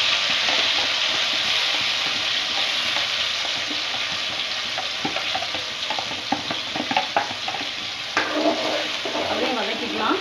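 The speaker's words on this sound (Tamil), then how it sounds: "அப்படியே வதக்கிக்கலாம்." Lots of sliced onion sautéing in a kadai for chana masala gives a loud, steady close sizzle with scattered stirring clatters and scrapes toward the end.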